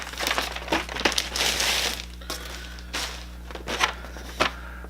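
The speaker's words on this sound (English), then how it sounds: "I'm gonna take it out of this plastic so you guys can see it better." A factory-sealed vintage COPS and Crooks Officer Bowser and Blitz toy is pulled from stiff plastic packaging, giving a run of close, loud crinkles and crackles that come in bursts with short pauses, over a steady low hum.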